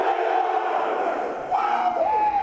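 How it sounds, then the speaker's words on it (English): A group of high school football players shouts a loud team cheer in unison, a sustained crowd roar holding steady for a couple of seconds before rising again. "Now take us out with a cheer."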